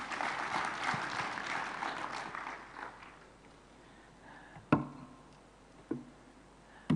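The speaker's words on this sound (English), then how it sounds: "I think that deserves more round of applause." Applause for teachers at an award ceremony rises at the start and fades out over a few seconds, leaving a quiet room where a few isolated knocks and clicks stand out.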